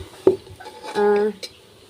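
A spoon stirs tenga seed jam in a small kerahi pan, giving a few sharp metallic clinks and scrapes, with a brief voice-like tone in between.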